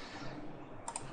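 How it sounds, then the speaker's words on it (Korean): A computer mouse is double-clicked while working in 3D CAD drawing software, two quick, faint clicks close together over a quiet background hum. "더블 클릭."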